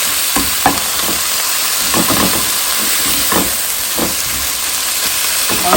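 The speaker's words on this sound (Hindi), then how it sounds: "इनको आप 3-4 मिनट तक अच्छी तरह भून लें ताकि इसमें कच्चापन निकल जाए सारे मसालों का" Spice masala paste roasts in a hot pan with a loud, steady sizzle and hiss, broken by soft scraping stir strokes, close up and without talk.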